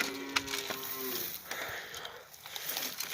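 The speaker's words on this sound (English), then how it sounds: "Sorry for all the mooing in the background." Cows on a farm moo in the background, with a short, faint low moo early on and then quieter lowing over steady outdoor ambience.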